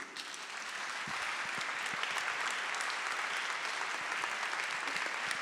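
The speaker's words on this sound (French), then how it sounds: "j'aimerais qu'on applaudisse vraiment tous ceux qui permettent à la filature d'exister" Sustained audience applause at a round-table discussion on organic linen, a dense, even roar of many hands clapping that holds steady throughout without speech.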